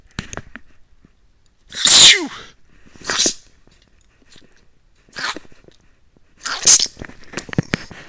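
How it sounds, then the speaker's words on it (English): Several sharp sneezes in a row, close and loud, separated by short quiet gaps with faint rustling. "Had to sneeze."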